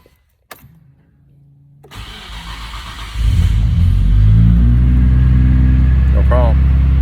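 A car engine cranks briefly then catches and settles into a loud, steady idle with a rising rev, following a short electric whir; a voice speaks over it.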